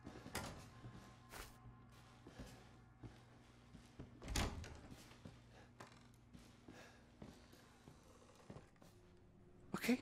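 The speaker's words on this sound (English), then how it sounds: "let's shut that door." A door shuts with a heavy thunk in the video game Resident Evil 7, among scattered knocks and clicks over a quiet, low hum.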